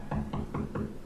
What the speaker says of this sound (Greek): Κάποιος χτυπάει την πόρτα.